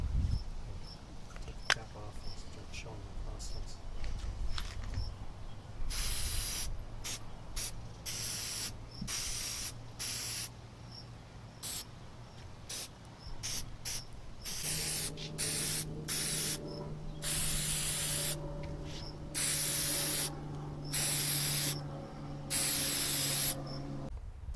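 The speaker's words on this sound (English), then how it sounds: "I take a spray can of the acrylic sealer and just coat the rocks completely." A spray can of acrylic sealer hisses in long and short bursts while coating painted stones for plant markers, close and fairly loud, with a faint mechanical hum underneath.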